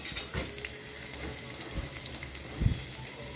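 Ingredients for masala sundal frying in hot oil, a soft continuous sizzle with a few brief louder spits and pops, heard close with no talking.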